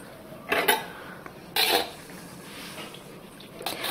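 Coarse chakki-ground wheat flour is tipped into ghee in a kadhai and stirred, giving two short bursts of metallic scraping and clatter with quiet pauses between them.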